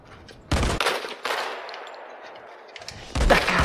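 Sniper rifle shots in the mobile shooter Modern Combat 5 ring out as a few loud, sharp cracks, each trailing into a brief rumbling decay, with quieter game ambience between them and no talk.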